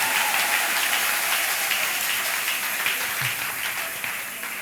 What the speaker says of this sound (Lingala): que vous pouvez acclamer pour Jésus-Christ?